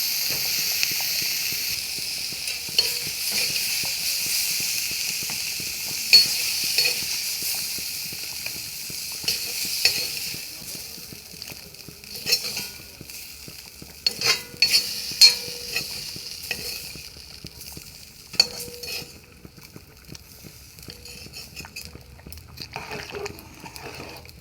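Vegetables sizzle steadily in a hot pan as a utensil stirs and scrapes through them in irregular bursts, a broad hiss running throughout with louder clacks near the end; no talking.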